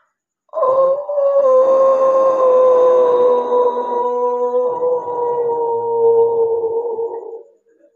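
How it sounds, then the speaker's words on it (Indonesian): A dog gives one long, drawn-out howl at midnight, loud and close, a clear wavering tone that holds for about seven seconds before fading away, with nothing else audible. "Kira-kira begini suaranya, lolongan itu di tengah malam."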